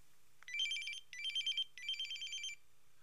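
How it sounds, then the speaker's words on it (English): A telephone rings on an outgoing call in three bursts of warbling, electronic-sounding tone with short gaps between them, fairly clear and alone with no talking. "we need to call motherfucking Babe and see what's cracking"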